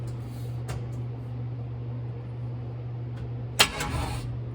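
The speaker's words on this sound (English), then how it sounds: "can you bump that starter just a little bit?" An S10 truck with an LS engine sits under a steady low hum until its starter is bumped once, giving a single short, sharp mechanical burst that fades at once.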